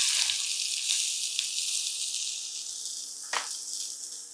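Mustard seeds, cumin and onions sizzling steadily in hot frying oil, a dense continuous hiss close by with a brief louder crackle or stir partway through.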